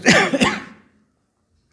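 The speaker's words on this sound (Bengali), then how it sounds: "কাশি হয়েছে তো, মাঝে মাঝে কাশতে হচ্ছে।" A couple of quick, close coughs from an adult, one right after the other, then silence with a faint click at the end.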